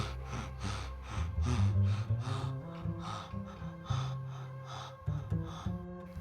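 Man gasping as he wakes from sleep, a series of sharp, rhythmic breathy gasps and pants, close and fairly loud, alone.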